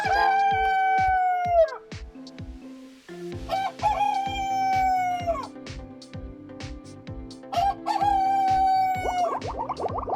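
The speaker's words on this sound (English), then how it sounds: "Rooster." Rooster crowing three times in clear, drawn-out calls, close and loud, with a sharp rhythmic ticking pattern running underneath.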